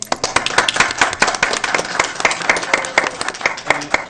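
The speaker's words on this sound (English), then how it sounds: "let's give her a round of applause" Applause at a Newport News school board meeting welcoming a new board member, a room of people clapping steadily with sharp individual claps audible, filling about four seconds with little talk.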